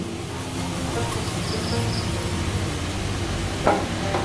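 Sugar being stirred into grated bottle gourd in a wok over a gas flame, a steady dense scraping and soft sizzle running throughout, with one sharper clink of the utensil near the end.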